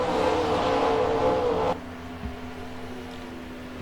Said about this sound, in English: How about this flyby off turn 2?